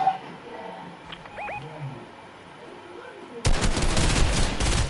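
Burst of dense video game gunfire erupting suddenly after a quieter stretch of ambient game sounds, loud and continuous through the final second and a half.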